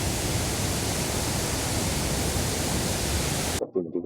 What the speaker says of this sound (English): it's combating a massive waterfall behind me